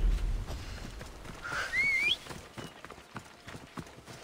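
Horse hooves clip-clopping in the video game Assassin's Creed Odyssey, a soft rhythmic trot under a brief whistle, fairly quiet and fading out with scattered steps.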